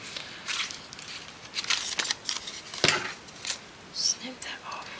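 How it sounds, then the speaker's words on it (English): Scissors snipping off a piece of material during a craft project at a table, a few short crisp cuts spread through the clip, close and fairly quiet, with soft handling noises between. "Snip that off."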